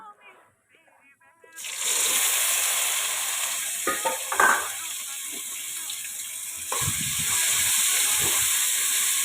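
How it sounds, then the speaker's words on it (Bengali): Raw green banana coated in salt, turmeric and spices drops into hot oil tempered with cumin and bay leaf, bursting into a loud, steady sizzle after a quiet start, with stirring noises. "এবার এটাকে ভেজে নেব"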